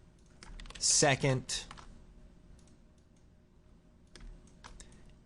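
Computer keyboard keys tap softly while text is entered in After Effects, and a brief spoken word rises clearly above the faint, scattered clicks.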